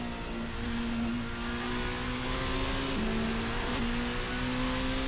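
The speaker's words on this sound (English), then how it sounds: "The engine, I will say, sounds amazing in this LMP car." An LMP race car engine drones at high revs on the Road America circuit, a steady buzzing whine with brief dips at gear changes, loud and continuous.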